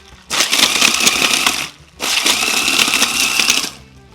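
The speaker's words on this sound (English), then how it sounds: "On flash blends, you're just gonna hold the button for a few seconds." An electric blender crushing ice for a cocktail in two loud, close bursts of grinding whir, each about one and a half seconds long, separated by a short pause.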